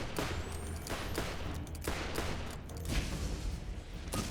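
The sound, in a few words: Equalizer gun firing in the video game Borderlands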